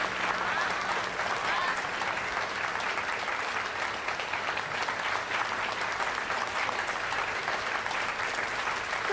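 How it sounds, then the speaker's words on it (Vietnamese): Steady, full applause from a crowd of guests and reporters celebrating the launch of Infinity, a new furniture brand under the Lộc Minh group, continuous and even throughout with no pauses. "Vỗ tay chúc mừng thương hiệu nội thất mới nhất dưới trướng tập đoàn Lộc Minh Infinity hôm nay chính thức"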